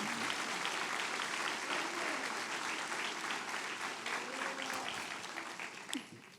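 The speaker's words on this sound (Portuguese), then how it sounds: "Vamos aplaudir o nome de Jesus." A church congregation claps together in sustained, dense applause that carries on for several seconds, then thins and fades out near the end.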